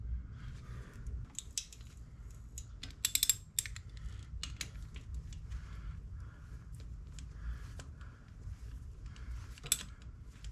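Screws being driven back into the stator of a Harley-Davidson Sportster charging system, giving scattered faint ratcheting and metallic ticking clicks with a couple of sharper bursts over a low steady hum.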